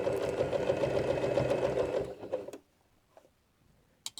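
A sewing machine stitches a seam on a fabric laundry bag with a fast, loud, rhythmic whir for about two seconds, then slows and stops, leaving a quiet pause and a few soft handling clicks.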